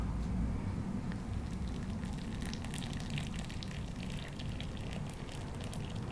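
Shui Xian tea pours in a thin stream, giving a steady, soft, close trickle that continues for several seconds without pause.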